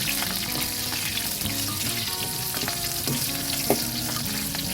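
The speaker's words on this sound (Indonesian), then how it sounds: "Ini saya goreng sebentar saja, sekedar layu." Chili peppers, four fairly large ones, fry briefly in hot oil for a Jogja-style lotek, giving a steady close sizzle with occasional stirring clinks and no talk.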